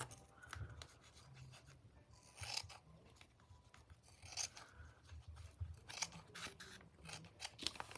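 Scissors trimming the tab on a shabby lace altered bag, several quiet close crisp snips spread across the stretch with faint handling rustle in between.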